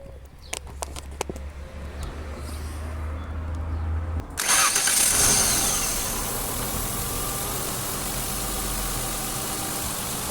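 A Ford Cougar V6 car engine cranks with a few clicks, then catches at about four seconds and settles into a loud, steady running roar close by, with birds faintly audible beforehand.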